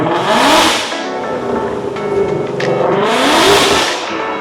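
A supercharged Ford Mustang Dark Horse with a Whipple supercharger fires up and revs. Loud close engine blips rise and fall twice, with the engine idling roughly between the surges.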